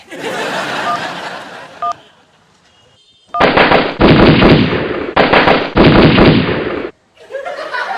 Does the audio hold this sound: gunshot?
yes